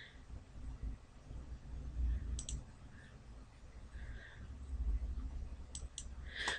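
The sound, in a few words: computer mouse left clicks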